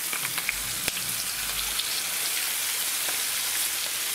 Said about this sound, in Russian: Все, жарим до корочки.